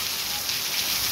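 Heavy night rain pours down in the district of Amaniutuba, Ceará, a dense, constant hiss of drops hitting surfaces with no breaks.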